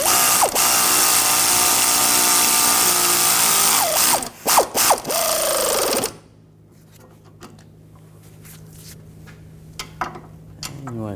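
Ratchet tightening a nut on a sway bar link of a 2004-2009 Audi A4 Quattro, a loud rapid clicking whir over a steady hiss for several seconds, a few separate strokes, then quieter scattered clicks and handling noises close by.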